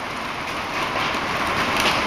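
Heavy rain pours down in a steady broadband hiss, close and continuous, with a slight swell in intensity toward the end and no voices over it.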